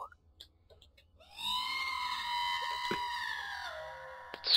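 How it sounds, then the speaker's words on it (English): Weird drawn-out scream in the F.E.A.R. video game, a high wavering wail that rises suddenly and holds for about three seconds over faint low background rumble. "That scream is really weird."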